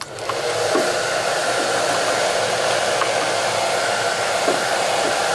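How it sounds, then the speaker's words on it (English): Heat gun warming a Kydex sheet for a holster, a loud steady blower roar with a constant airflow hiss that stays even and close for the whole stretch, no talking. "As you're heating this up, this heat gun, keep it moving."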